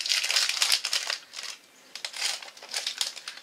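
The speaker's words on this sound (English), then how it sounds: "Sorry about all the crinkly noises." A biscuit packet crinkles and crackles in short bursts as it is pulled open, close to the microphone and fairly quiet, with a brief lull midway.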